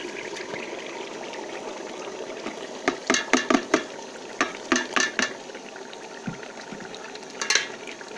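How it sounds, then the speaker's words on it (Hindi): Moong and spices fry in a pan while being stirred, a soft continuous sizzle punctuated by a series of close, sharp scraping clinks from the spoon against the pan, with no talking. "अब हम इसे अच्छे तरीके से मिक्स कर लेंगे।"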